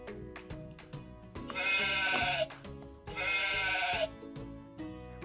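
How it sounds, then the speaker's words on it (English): A sheep gives two long, loud bleats over a light musical backing, with short sounds between them. "This is a sheep."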